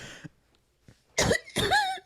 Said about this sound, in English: That's how I cough